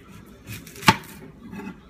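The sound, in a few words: knife chopping an onion on a cutting board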